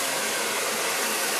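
A blow dryer runs in a steady, loud, unbroken whoosh while drying hair with a round brush.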